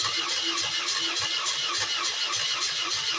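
A BMW R80 Paris Dakar motorcycle engine is cranked on a cold day with the choke on and a carburetor leaking fuel, giving a steady, rhythmic churning that runs on without pause.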